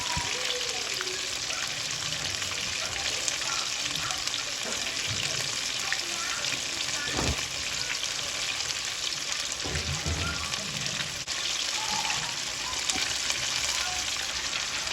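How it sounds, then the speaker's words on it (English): Food frying hard in hot grease, a continuous close sizzle with crackles and a few sharper pops, steady and loud from start to finish, with a faint voice briefly underneath. "I'm just let them fry a little hard."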